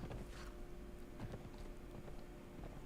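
Video game horse hooves clip-clop in a quick, steady patter, moderately loud against a dense background hum, with no one speaking.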